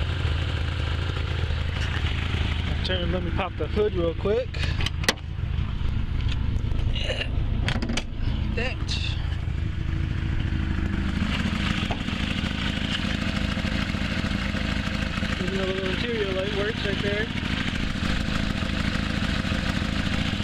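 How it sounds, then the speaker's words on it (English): A 1980 Lada 2101 engine idling steadily with a small exhaust leak, a constant low rumble with a few sharp clicks and knocks while someone speaks over it. "But it's got a small exhaust leak."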